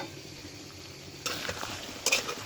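Beef, potato and onion curry stirred in a pan, a quiet low sizzle that turns into louder scraping and stirring partway through, with a sharper clatter of spoon against metal near the end.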